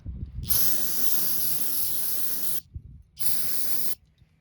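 Two bursts of spray can hissing onto a 2004 Dodge Ram 2500 5.7 engine, a long one of about two seconds followed by a shorter one after a brief pause, close and loud.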